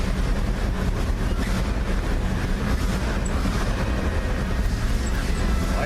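Classic truck engine with a shot, blown-out muffler idles loud and rough, a steady broadband exhaust roar running unbroken for the whole stretch with no pauses.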